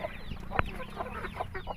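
Domestic hens cluck softly near their chicks in a backyard poultry setting, several short close calls in an irregular pattern over a low background murmur.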